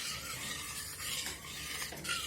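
Paneer butter masala stirred and mixed in a container, with a steady scraping, rubbing texture of a utensil working through thick sauce, close and continuous for a couple of seconds with no talk.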